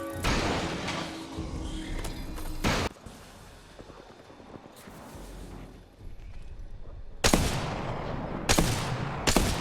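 Gunfire in the video game Apex Legends: loud bursts of shots at the start and again near the end, with a quieter stretch of scattered noise between.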